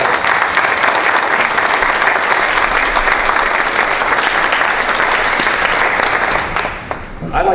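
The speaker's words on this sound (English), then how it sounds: "Everybody, let's give a round of applause for our panelists tonight." Sustained, dense applause from an evening panel audience fills nearly the whole stretch, loud and steady, thinning slightly near the end.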